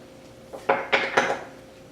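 A utensil knocks against a bowl three times in quick succession while stuffed beef burger ingredients are mixed with salt and pepper; close, short clattering strikes over a quiet room.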